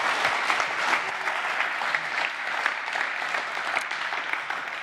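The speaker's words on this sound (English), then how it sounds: "Warm round of applause." Sustained audience applause after a closing keynote at the Frankfurt European Banking Congress, a steady dense wash of many hands clapping at even loudness throughout, with no talking.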